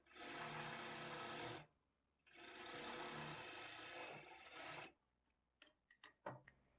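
An electric sewing machine stitches a blouse in two long steady whirring runs separated by a brief pause, then quiet with a few short clicks and handling knocks.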